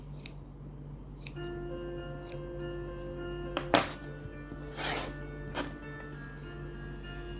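Scissors snip the yarn of a crochet witch broom, a few short crisp cuts and soft thunks sounding close and quiet over a faint steady background tone.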